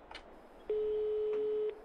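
Phone call tone in the farming video game Farming Simulator 22: a single steady electronic beep lasting about a second, clear and alone after a brief soft noise.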